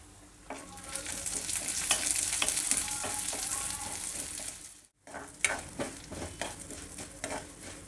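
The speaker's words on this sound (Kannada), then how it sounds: "ಉದ್ದಿನಬೇಳೆ ಬೇಳೆ ಎರಡು ಚೆನ್ನಾಗಿ ಫ್ರೈ ಆಗಿದೆ" Chana dal and urad dal fry in oil in a pan, giving a steady close sizzle with light scraping as a spoon stirs them. The sizzle drops out briefly, then the stirring and crackle resume.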